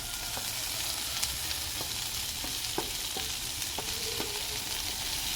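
Tomatoes go into softened onions frying in oil for biryani, giving a steady hiss of sizzling with scattered crackles and pops, fairly quiet and with no one talking.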